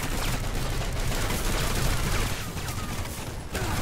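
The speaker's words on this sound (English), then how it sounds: "Can you do me a favor and stop shooting?" Dense gunfire from the Planetside 2 video game, a loud continuous barrage of overlapping shots and bursts filling the whole stretch without a break.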